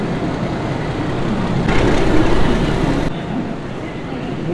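Mumbai Mail train pulling into a railway platform, a continuous loud rumble swelling for a moment in the middle amid station noise.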